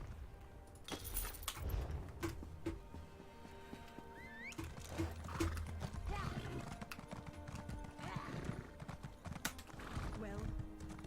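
Clip-clop of horses' hooves in the online role-playing game Elder Scrolls Online: a steady trotting rhythm of close hoof beats under a character's speech, with occasional jingling and a brief whinny.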